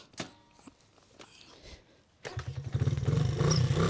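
A Honda CRF 50 mini motorcycle: a few soft clatters and knocks, then the small engine starts and settles into a loud, steady, buzzing idle close by.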